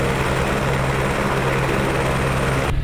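Loud, steady helicopter rotor and engine roar, constant and close, filling the whole stretch with no talking.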